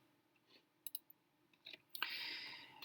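A few faint, scattered mouse clicks while working in Android Studio, followed by a steady broadband hiss in a quiet room.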